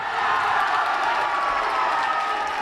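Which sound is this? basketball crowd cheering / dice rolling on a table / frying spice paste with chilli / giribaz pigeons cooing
basketball crowd cheering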